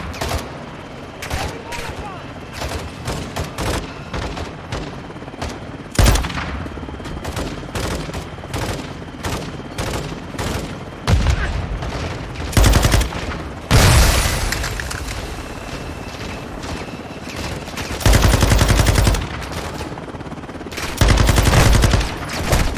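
Dense shotgun blasts and machine gun bursts in the video game Call of Duty: Modern Warfare 2, loud and near, rattling in rapid volleys with heavy booms, under occasional talk.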